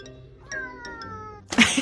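A cat meows several times in quick succession, close and fairly loud, its drawn-out tonal cries ending in a harsher, noisier yowl.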